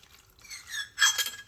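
Water poured into a bowl of salad dressing being mixed for a tomato, onion and cucumber salad, a short splashing pour with a faint glassy clink, fairly quiet and with no talking.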